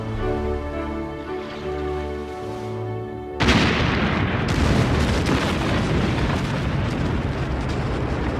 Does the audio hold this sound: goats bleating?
no